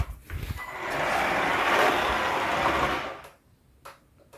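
A cheap RC drift truck's electric motor whines up and runs steadily for a couple of seconds, then drops away, leaving brief clicks and handling noises.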